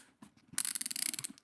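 A BOA lacing dial on Red Wing boots is pushed in and twisted tight, giving a rapid run of close, crisp ratcheting clicks after a couple of soft taps.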